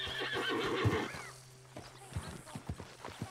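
In Red Dead Redemption 2, a horse whinnies loudly at the start, followed by scattered hoof clops and soft thuds.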